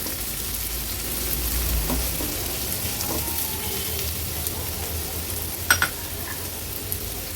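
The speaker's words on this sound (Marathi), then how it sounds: "कांदा थोडासा तेलावर परतून घ्यायचा आहे" Green chillies and finely chopped onions sauté in hot oil as a tempering for Agri-Koli style prawn masala, a steady soft sizzle throughout with a couple of brief utensil clinks near the end.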